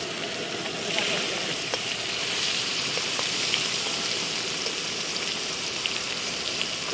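River fish fry in smoking-hot oil in a wok, giving a steady, even hiss with faint crackles throughout and no talking over it.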